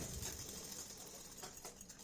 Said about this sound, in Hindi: सिलाई अच्छे से पक्की लगा लेनी है ताकि ये निकले ना